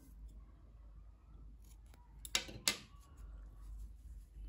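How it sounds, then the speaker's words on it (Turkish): Scissors snipping the end of crochet yarn, two sharp close snips in quick succession against a quiet room with low background hum. "Bakın şu ipliğin ucunda kesiyorum."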